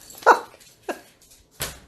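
A dog at a back door makes three short, sharp, evenly spaced sounds, close by and fairly quiet, with near silence between them.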